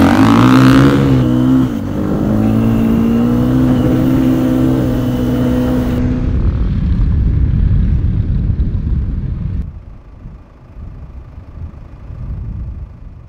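Motorcycle riding across Moroccan desert terrain during a women's rally: a loud engine roar rising in pitch at the start, then a rough, rumbling ride with heavy low-end noise that fades toward the end.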